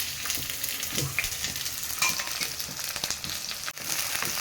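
Onion and green chillies frying in oil in a pan, a close, continuous sizzle with crackles and brief stirring clatter, no talking.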